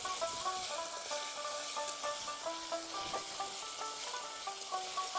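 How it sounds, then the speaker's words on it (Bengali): Ginger-garlic and onion paste with spices frying in a pan, a steady close sizzle with crackling and faint ringing tones throughout. "আদা রসুনের কাঁচা গন্ধ যাওয়া অবধি এইভাবে একটু ভালো করে ভেজে নিতে হবে"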